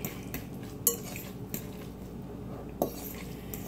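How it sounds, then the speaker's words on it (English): Potato gnocchi dough for cheese-stuffed gnocchi is mixed in a bowl: a few sparse, quiet clinks of a utensil against the bowl over a soft room background, with no talking. "Then you just go on and mix that all in. Mix it up pretty good."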